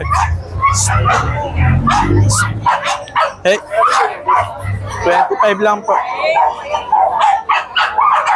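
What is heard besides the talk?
Doberman dog barking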